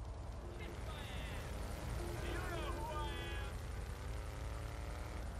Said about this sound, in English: I should shoot that helicopter down